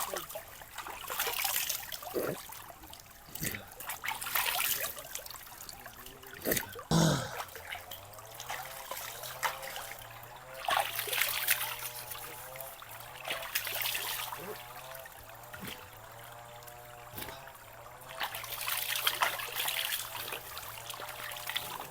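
Water trickling and splashing in a mountain stream where someone is soaking, a continuous close babble with occasional louder sloshes and faint background sounds.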